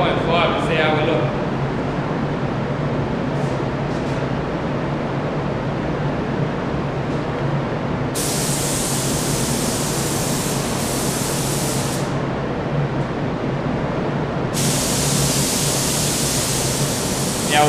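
A spray gun atomizes paint at 1 bar pressure, producing a steady loud hiss that stays constant and then brightens and widens in short bursts, with a voice briefly audible near the start.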